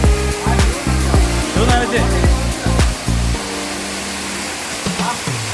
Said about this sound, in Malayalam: കൂവപ്പള്ളി വെള്ളച്ചാട്ടം